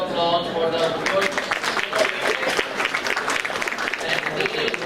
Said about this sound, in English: So just give him a round of applause